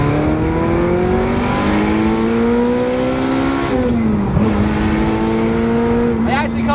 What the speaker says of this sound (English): It'd be rude not to at least give it a little rev